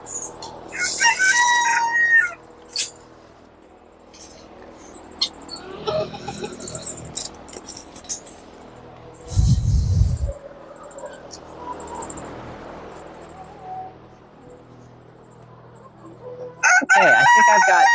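Chickens cluck and squawk nearby, with a rooster crowing in bursts and some low thumps between quieter stretches.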